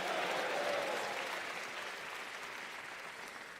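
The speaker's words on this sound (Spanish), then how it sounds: "de un fuerte aplauso para el Señor Jesús" A church congregation gives a round of applause during a sermon, a soft, distant, continuous wash of clapping that slowly fades over a few seconds.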